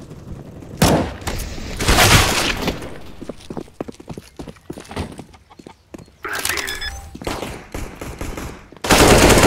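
Bursts of gunfire in a Counter-Strike match, loud and close: sharp rapid shots cluster in the first seconds, scattered single cracks follow, then a sustained burst at the end.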